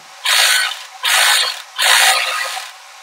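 Sewing machine running a straight stitch, three loud bursts of rapid mechanical clatter separated by short pauses, close up with no voices.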